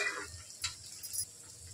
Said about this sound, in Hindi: अब हम इसके अंदर गरम पानी डाल देंगे।